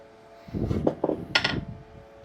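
A wooden wedge is tapped into a Hudson Bay axe handle, giving a few close, dull knocks of wood on wood within a second, with one brighter strike among them and no voices.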